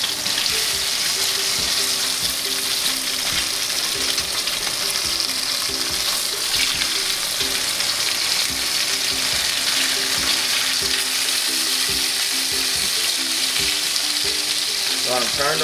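A striped bass fillet sizzles and crackles steadily in a hot pan, loud and close throughout, with faint scraping as it is flipped and no talking.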